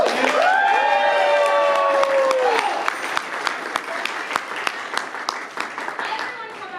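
An audience at the Frankencon 2024 costume contest bursts into loud applause with whoops and high cheers, the cheering fading after a few seconds into scattered clapping.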